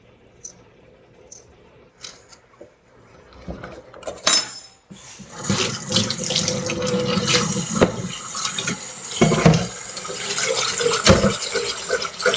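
Potatoes washed by hand in a kitchen sink: a few faint clinks, then water gushing and sloshing with splashes and knocks of the potatoes, close and moderately loud.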